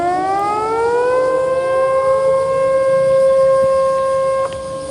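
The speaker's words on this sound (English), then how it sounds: "Let's listen in to the sirens blaring and the kind of warnings that are being put out." Civil defense tsunami warning sirens blare across Japan, a loud sustained wailing tone rising in pitch and then holding steady, with layered harmonics and a distant outdoor quality, alone without talk.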